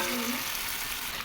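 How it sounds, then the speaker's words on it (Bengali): Meat dropped into a hot pan, a close, steady sizzling hiss with a brief low rustle at the start, lasting just over a second. "তো দেখো এবার মাংসটা দিয়ে দেবো।"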